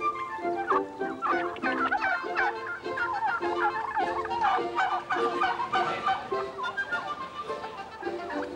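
Turkey gobbling, loud and continuous, from birds on a turkey farm, with repeated throaty warbling bursts layered throughout and no talk over them.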